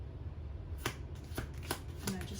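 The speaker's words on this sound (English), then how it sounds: "and I just shuffled something back in there." A deck of tarot cards shuffled in a few quick, soft riffling bursts, fairly faint and close against a quiet background, with no talking.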